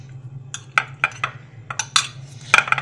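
Carrots and bacon stirred in a cooking pan, giving light clinks and scrapes of a utensil against metal, about a dozen irregular taps close by over a low steady hum.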